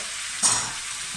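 Chopped leftover potatoes drop into a pan of hot lamb juices and burst into a sudden loud sizzle that quickly settles into a steady frying hiss.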